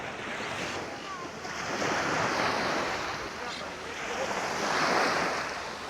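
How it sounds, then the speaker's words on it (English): Waves lap and wash onto a quiet beach in a steady broadband surf that swells and fades in slow surges, with some wind noise against the microphone. "I can see in the water lapping around here"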